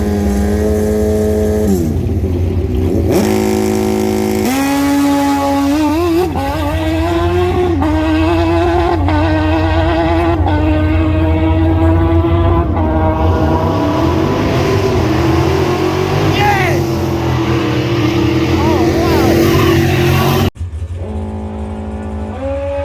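A drag racing car making a full run, its engine screaming through rising gear-shift sweeps like a motorbike, loud and continuous for about twenty seconds before dropping off sharply.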